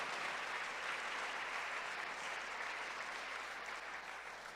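A church congregation claps hands in worship, a continuous even wash of many palms that holds steady and slightly fades, no voices on top.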